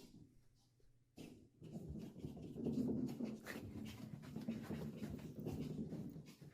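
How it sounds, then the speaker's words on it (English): A dog pants rapidly and steadily in a short phone-recorded clip, breathy rhythmic huffs close to the mic after a brief quiet start, with light rubbing noises and no speech. "That is one possessed dog."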